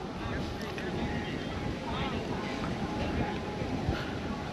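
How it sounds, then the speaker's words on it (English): Strong wind gusting at a riverside ghat on the Ganga, roaring steadily across the microphone as a dense rumble that fills the whole clip. "There's a very, very strong wind blowing."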